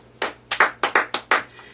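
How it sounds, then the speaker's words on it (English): A small group clapping in short bursts, about six sharp rounds of applause close by with brief gaps between them and no talk. "And now this is why we're clapping it"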